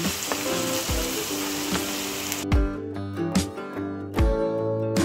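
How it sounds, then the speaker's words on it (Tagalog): Garlic browns in a pan with a close, steady sizzle and crackle that drops off halfway, giving way to a series of hollow knocks and scrapes of stirring against the cookware. "Magba-brown muna tayo ng ating bawang."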